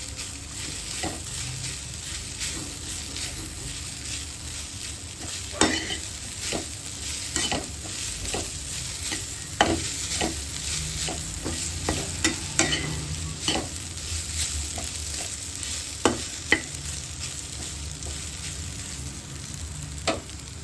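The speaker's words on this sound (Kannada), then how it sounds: "ಬೆಂಡೆಕಾಯಿ ಜೊತೆ ಈ ಥರ ಮೊದಲೇ ಹುರ್ಕೋರಿ ಇದನ್ನು ಒಂದು ಟೂ ಮಿನಿಟ್ಸ್ ಫ್ರೈ ಮಾಡಿರಿ" Okra with garlic frying in a pan for North Karnataka bendekayi chutney, a continuous close sizzle broken by frequent clicks and scrapes of stirring, with no voices.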